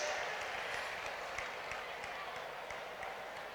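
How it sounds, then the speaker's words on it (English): Memorial service audience applauding as a speaker leaves the stage, a quiet, steady spread of many hands clapping with a few louder individual claps, no talk over it. "Let's give him another round of applause as he exits the stage."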